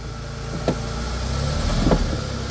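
Smart car with a seized alternator idling at a steady low hum, with a couple of short mechanical clunks as the handbrake is released and the car is shifted into first gear.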